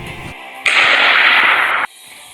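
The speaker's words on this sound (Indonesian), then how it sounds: "Yang berani melawan, saya tembak kepalanya." A staged gunshot effect in a classroom drama about the forced cultivation system comes as one loud, harsh burst lasting about a second, sharply cut off, with no talking.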